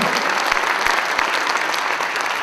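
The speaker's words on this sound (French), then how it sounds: "Quelques applaudissements pour lui" A live audience at a hat-and-cigarette stage game claps loudly and steadily, a dense crowd patter with a few sharper individual claps standing out near the front.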